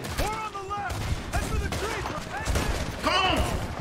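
Rapid, repeated shotgun blasts from a pump-action shotgun in the Red Dead Redemption 2 video game, part of a loud, busy firefight with overlapping shots and voices.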